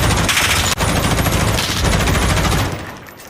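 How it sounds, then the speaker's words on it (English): Rapid gunfire tears through thin wood in a competitive 1v1 shooter match, a dense, loud burst of overlapping shots that runs nearly the whole time before easing off at the end. "I wall bang that thin wood that Shawnee's behind"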